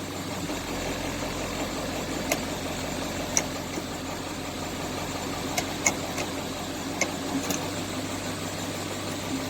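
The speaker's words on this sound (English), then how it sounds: "we want to do this with the engine running" A skoolie bus engine idles steadily during a routine service, a constant low rumble and hum with a few faint clicks and taps scattered over it, no talking.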